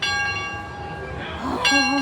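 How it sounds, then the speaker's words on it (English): A hand-rung bell from an old locomotive, number 2, sounds in a few bright ringing strikes that sustain, with a loud closer strike near the end, over outdoor background noise at an amusement park. "The bell I got in my hand."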